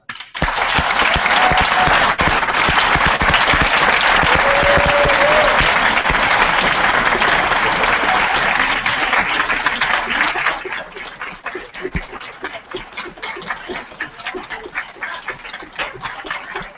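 An audience gives a long round of applause at a general assembly plenary in Bucharest, dense and loud for about ten seconds before thinning into scattered claps.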